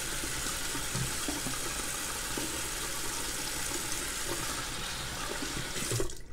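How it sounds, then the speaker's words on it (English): Hands being washed under a running bathroom tap during a morning skin care routine: water rushes in a steady, close hiss with faint splashes throughout and stops at the very end. "I'll just go ahead and wash my hands"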